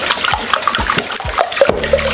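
Cake batter with egg is whisked in a bowl, wet sloshing strokes repeating in a quick, uneven rhythm, close and fairly loud, with no talking.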